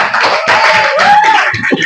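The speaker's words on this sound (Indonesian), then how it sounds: "tepuk tangan dulu untuk kita semua" A classroom of students claps together for several seconds, a dense, steady patter of many hands close by, with a brief bit of voice near the end.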